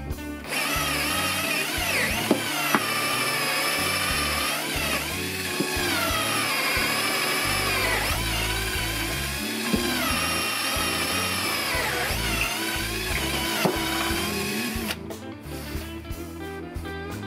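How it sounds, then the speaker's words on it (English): Power drill boring into a solid oak workbench slab, a loud continuous whirring grind that rises and falls in pitch as the bit bites and eases, heard close up for the whole stretch with no talking. "My workbench is a little bit tough to drill in because it's one slab of oak."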